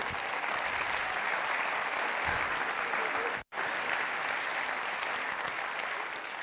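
Audience in a cultural-centre comedy show hall breaks into sustained, dense applause, loud and steady throughout with a single split-second dropout midway and no talking over it.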